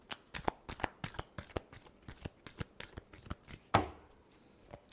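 Tarot cards being shuffled in repeated quick riffling bursts, close and fairly soft, with a sharper snap near the end and no talking.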